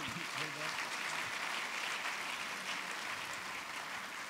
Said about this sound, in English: Start by giving yourselves a big round of applause.